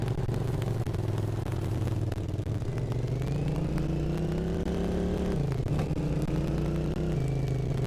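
A vehicle engine in the DayZ video game drives through fog with a steady, loud mid-pitched drone. The hum rises and shifts pitch with throttle and gear changes, running continuously with no talk.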